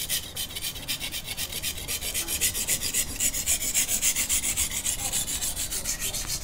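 Steady back-and-forth rasping of a knife blade drawn over 400-grit sandpaper, even strokes in a continuous rhythm, close up with no talking.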